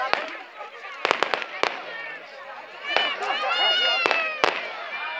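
Fireworks burst at a Romanian village festival in Gepiu, sharp cracks and pops scattered over several seconds amid crowd noise and a loudspeaker voice, with whistling rising tones between the bangs.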